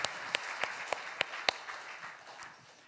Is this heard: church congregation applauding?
yes